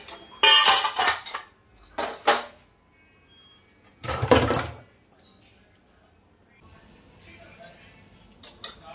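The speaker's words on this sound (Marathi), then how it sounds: "भरीत कुटण्यासाठी अशी बडगी वापरतो आम्ही." Khandeshi eggplant bharit with garlic, green chilies and peanuts pounded by a wooden pestle: a few loud bursts of rapid knocking and clatter separated by quiet gaps, with faint background noise afterward.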